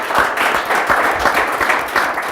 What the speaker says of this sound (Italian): io voglio fargli proprio un applauso